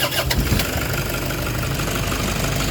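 A Toyota D4D diesel engine with low power and throttle delay cranks and catches, then settles into a loud, close, rough idle with a steady knocking rumble and no talking.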